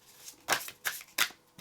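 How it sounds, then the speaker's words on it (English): Tarot cards being shuffled by hand in three quick riffling bursts and a shorter fourth, crisp and close with quiet gaps between, no talk. "Let's pull from the tarot cards."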